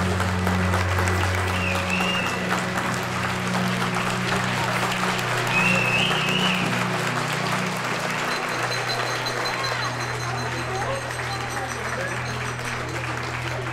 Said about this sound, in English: Let's all stand and give him an applause.